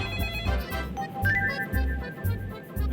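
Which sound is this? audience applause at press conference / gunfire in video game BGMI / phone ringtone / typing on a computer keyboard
phone ringtone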